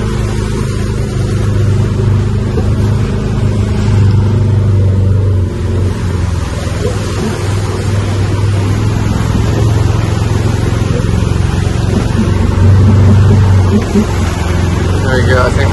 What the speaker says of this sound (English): Some really deep bits we drove through there.